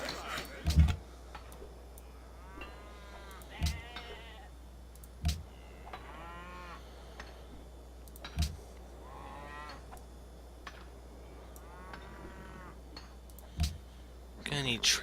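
Cattle mooing in the video game Civilization V, several low calls spaced across the stretch between soft clicking interface ticks, fairly quiet over a steady background hum, with a voice talking at times.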